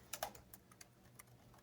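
Quiet keys on a laptop with an Intel Pentium Silver processor tapped in short, irregular bursts of soft clicks, close by, with no talking.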